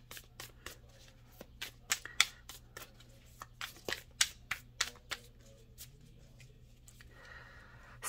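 Tarot cards are shuffled by hand in a quiet room, a run of crisp riffling snaps and soft slaps in irregular bursts, close and alone with no talk.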